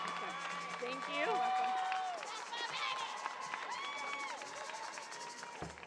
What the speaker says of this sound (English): Please give another round of applause to our valedictorian, salutatorian student speakers.